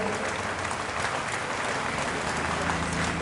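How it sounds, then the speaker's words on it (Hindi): Loud, steady applause from a crowd at a Ram temple anniversary-eve gathering in Nagda, dense clapping sustained evenly throughout. "जोरदार ताली बजा के आपका अभिनंदन करें, स्वागत करें"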